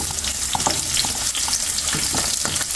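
Onion hits about two tablespoons of hot oil in a pan and fries with a loud, continuous, close sizzle, broken by frequent stirring scrapes.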